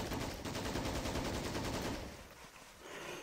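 Machine gun fire in the World War II strategy game Men of War: Assault Squad 2, rapid continuous bursts for about two seconds, then tapering into scattered distant shots.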